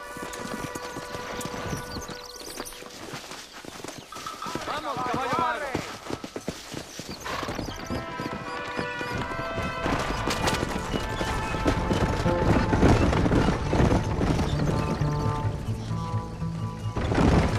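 Rhythmic horse hoofbeats clip-clop steadily with music and a brief horse whinny in the video game Red Dead Redemption, growing busier toward the end as the galloping continues under a full soundtrack.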